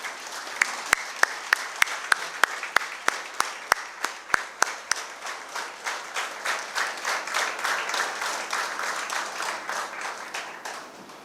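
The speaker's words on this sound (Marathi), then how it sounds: "सगळ्यांनी उभं राहून या उपक्रमाचं टाळ्या वाजवून अभिनंदन करावं, अभिवादन करावं, स्टँडिंग ओवेशन द्यावं" An audience gives a standing ovation at an event honouring volunteer workers, with a few sharp separate claps at first that build into steady, dense applause filling the hall for about ten seconds.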